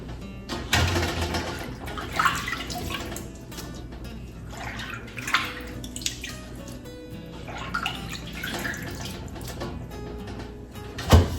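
Water runs and splashes in a sink as mustard and collard greens are swished and rinsed, with irregular sloshing bursts and drips throughout, no voices.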